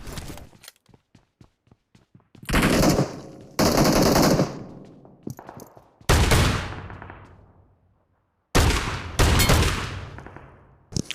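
Shotgun fire in PUBG Mobile on the Livik map comes as loud, close blasts in several bursts, some in rapid runs, with long ringing tails and quiet gaps between, preceded by a string of faint ticks.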